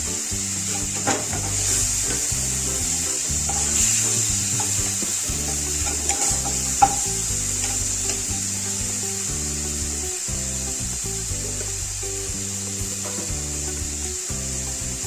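A masala pulao pan sizzles steadily as water, cashews and raisins go in, with continuous frying hiss and repeated rhythmic stirring scrapes close by; nobody speaks.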